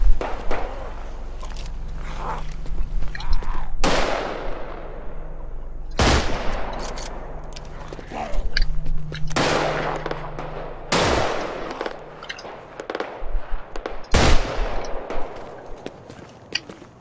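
Gunfire in the zombie video game Contagion, several sharp loud shots and bursts with long echoing tails spread across the clip over a low ambient hum.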